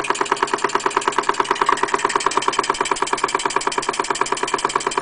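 Engine exhaust chuffing with a short piece of pipe fitted over the outlet: a steady, rapid run of even puffs, close and fairly loud, with no voices.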